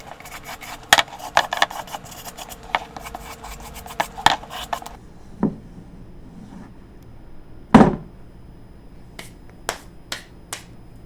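Sandpaper rasps over a wooden silkscreen frame in quick, close scraping strokes, dense at first and then sparser, with occasional sharp knocks.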